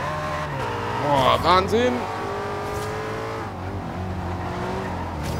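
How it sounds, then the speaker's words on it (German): A Mercedes race car in Forza Horizon 2 closes in from behind, its engine drone rising and swelling in pitch with a brief surge of revving before settling into a steady hum, while someone talks excitedly over it. "Hinter uns kommt ein Mercedes angeflogen."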